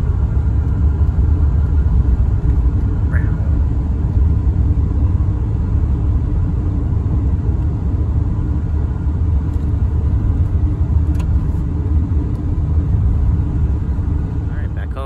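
A car driving through four consecutive banked corners on a back road, a steady, loud low engine rumble heard from inside that holds throughout with little change, while a person talks over it.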